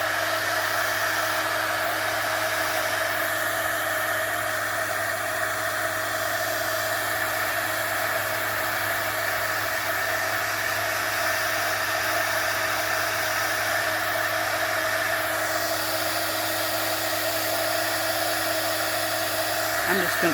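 A hair dryer blows steadily and close for the whole stretch, a constant whooshing whir with a steady motor hum, used to dry a stamped, glittery journal page.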